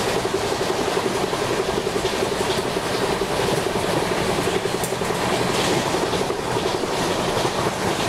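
Express train in an Indian railway simulator game, approaching a railway bridge, rumbling loudly and steadily with continuous wheel clatter and rail noise throughout.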